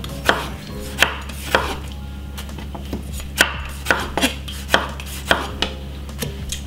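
Two tomatoes being chopped with a knife on a cutting board for a fried rice salad, sharp regular chops about every half second, close and clear over a low steady hum, no talking.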